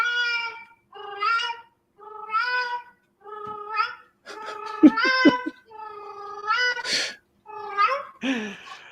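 A recorded cat call plays from a device to summon a cat: a series of about a dozen distinct meows and caterwauls, evenly spaced and moderately loud, with no talking.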